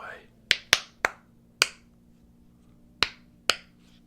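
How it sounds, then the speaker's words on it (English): A small popper toy snaps with sharp, bright pops, six or seven crisp cracks spaced irregularly over a few seconds, close and distinct against a quiet room. "Next up is this little popper toy."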